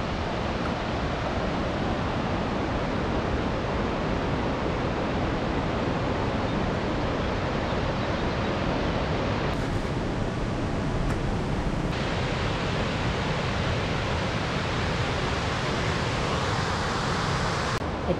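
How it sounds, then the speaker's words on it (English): A river rushing in Plitvice Lakes National Park, Croatia, a loud, constant broadband roar of flowing water that stays even throughout, with brief wind buffeting on the microphone. "Oh wow, look at that river."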